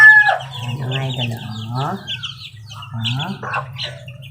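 Young Siam-breed chickens and chicks cluck and peep close by in repeated bursts, with a steady low farmyard hum underneath and no talking.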